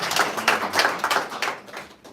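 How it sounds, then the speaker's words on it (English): A round of applause from the audience at a dental honor society induction ceremony, clapping in quick, fairly close bursts that thin out toward the end. "Everybody give them a round of applause."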